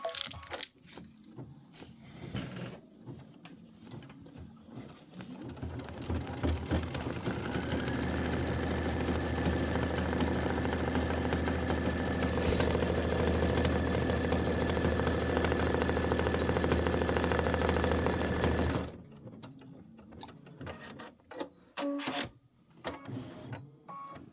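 A Kimberbell embroidery machine stitches pumpkin vines, its rapid even needle chatter and motor hum running loud and steady for about ten seconds before stopping, with quieter handling noises around it.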